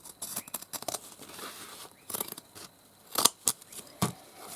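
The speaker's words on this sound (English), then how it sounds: "Where I've creased it, I think I will just trim that off on both sides." Scissors trim creased card off both sides while a divided storage box is made, with bursts of close snipping and cutting, brief pauses between cuts and a few sharp clicks of the blades.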